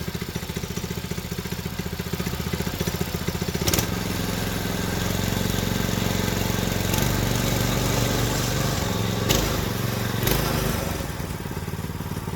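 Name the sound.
Predator 212 engine-powered Volkswagen Baja Bug moving in gear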